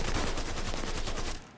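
Sustained automatic gunfire in Mafia 3 Definitive Edition, a loud close burst of rapid evenly spaced shots that cuts off abruptly near the end, with no voices over it.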